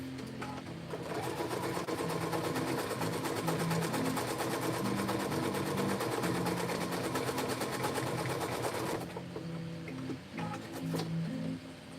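Sewing machine stitching a pair of pants, a steady rapid mechanical whir running loud and close for about nine seconds, then stopping and giving way to brief handling clatter.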